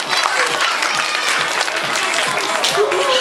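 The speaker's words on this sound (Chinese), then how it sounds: "请给副班长掌声鼓励" Audience applause at an animal theatre show on an eco farm, after a flag-raising act, a steady dense clapping wash lasting throughout with a voice speaking over it.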